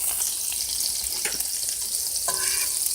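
Scarlet elf cup mushrooms frying in a pan, a loud close crackling sizzle throughout with brief scraping strokes as they are stirred.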